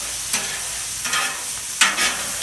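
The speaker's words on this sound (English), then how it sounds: "We just want to get a sizzle on them" Black beans sizzle steadily on a hot Camp Chef flat top griddle, with three bursts of scraping and stirring from a spatula pushing them around.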